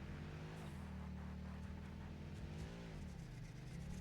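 A steady engine drone from the Explorer, a drivable car in the factory-building game Satisfactory, holds loud and close for the whole stretch, with slight pitch wavers as it rolls over rough ground.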